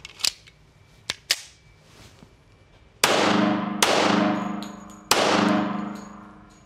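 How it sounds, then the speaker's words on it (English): Three loud pistol shots from a Springfield Armory Operator 1911 ring out with echoing tails in a failure drill: a quick pair, then a separate aimed shot. Faint clicks and taps come before them. "I'm gonna do a control pair to the upper chest area, and I'm gonna wait and do a very careful shot on the head"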